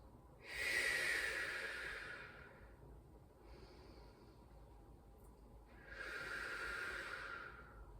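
Slow, deliberate breathing during a rowing exercise: two long, close airy breaths, the first a strong whooshing exhale and the second a similar breath after a quiet pause, with no talking.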